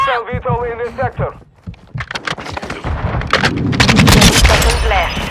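Gunfire in Call of Duty: Modern Warfare II: rapid, loud automatic bursts building into dense sustained shooting, with shouted voices over the start of the firefight.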